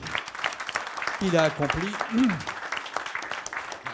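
Applause at a municipal council meeting in Miniac-Morvan, a soft spread of clapping from a small group that continues under voices talking.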